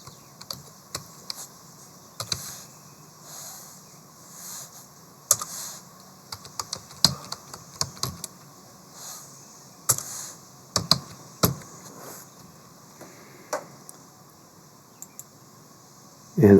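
Typing in all caps on a computer keyboard for a beginner laser project, with irregular bursts of close, crisp keystrokes and short pauses between them, over a quiet room hum.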